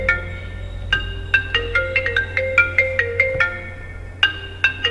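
A mobile phone rings with an incoming call from an unknown number, a bright electronic melody of quick repeated tones playing clearly and close by, with no talking over it.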